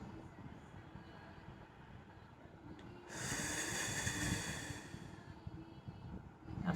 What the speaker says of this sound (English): One more time, breathe in.